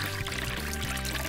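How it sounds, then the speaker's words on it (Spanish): Water pours steadily into a container, a continuous close splashing rush of liquid with no talk over it. "Vertamos agua en el recipiente."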